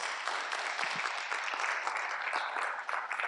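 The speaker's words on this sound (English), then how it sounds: "So a big applause for Per Bylund." Sustained applause from a conference audience at the LIWC 2023 libertarian event in Madrid, a dense, even wash of clapping lasting about three seconds with no voices over it.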